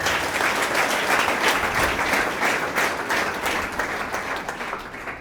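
A church congregation claps in a dense, continuous burst of applause from many hands, loud and sustained before easing slightly toward the end.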